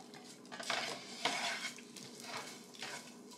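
Onions sauté in hot oil, giving a soft, low frying hiss broken by several scraping stirs and light utensil clinks against the pan, close but fairly quiet.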